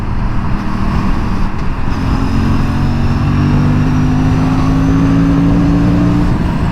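An Aprilia RS 457 motorcycle accelerates on the freeway, its engine note rising steadily over a loud, continuous roar of wind and road noise.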